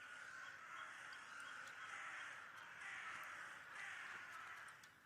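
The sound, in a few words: birds cawing in the video game The Last Door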